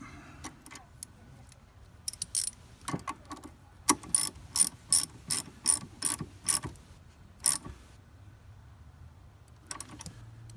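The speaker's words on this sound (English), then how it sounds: "then we'll tighten the terminals up" Ratchet tightening the battery terminals on a Toyota 4Runner truck: close, crisp clicking bursts in short quick runs, separated by brief pauses, against a quiet background.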